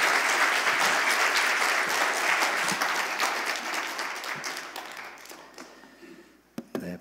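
Congregation applause at a Korean church in Orange County welcoming a speaker: a full, even burst of clapping that fades away over several seconds, ending in a few stray claps and a knock.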